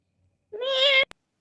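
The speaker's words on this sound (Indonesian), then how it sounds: "Cat, kucing, miau-miau." A single domestic cat gives one clear, close meow of about half a second, followed by a brief click, with near silence around it.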